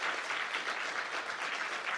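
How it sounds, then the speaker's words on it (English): A crowd applauds steadily, heard at a distance and fairly faint, with dense clapping that neither swells nor dies away across the short stretch. "I think that deserves another round of applause"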